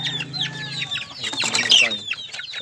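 Pet chickens cluck and chirp close by while being fed chick starter feed, with a steady run of overlapping clucks and brief calls.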